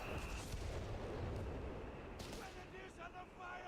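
Artillery fire in Company of Heroes 3 pounding Grenadiers, a dense continuous rumble of blasts with bursts of brighter crackle, heard under a commentator's voice during a live tournament stream.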